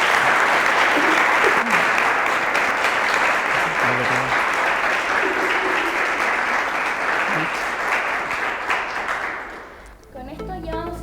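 An audience gives sustained, loud applause for Anita Merino, regional president of a families' association, on a university program; the dense clapping tapers near the end as a voice begins.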